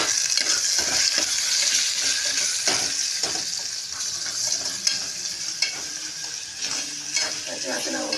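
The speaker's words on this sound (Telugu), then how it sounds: "ఇది కొంచెం పచ్చివాసన పోయే వరకు వేయించాలి" Ginger fries in a pan over a low gas flame, a constant bright sizzle broken by the scrape and occasional clink of a spoon stirring, close and continuous.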